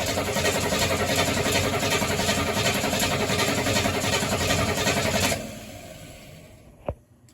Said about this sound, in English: so the engine cranks over great.